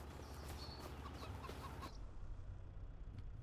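Chickens clucking in Farming Simulator 25, a steady cluster of short clucks and chirps over a constant low ambient bed, fairly faint and in the background, with the clucking thinning out after about two seconds.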